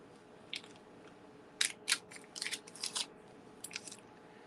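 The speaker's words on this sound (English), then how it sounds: "Put it back in a plastic bag." A plastic bag rustles and crinkles in short, close bursts while a sterling silver bracelet and other sale items are packed away, with brief pauses between the crackling handling sounds.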